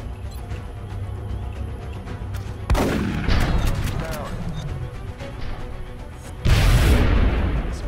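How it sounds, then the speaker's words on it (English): Two sharp, loud explosions in the video game XCOM: Enemy Unknown, each a sudden booming blast with a long decaying rumble, the second a few seconds after the first, over game background noise. "Explosion."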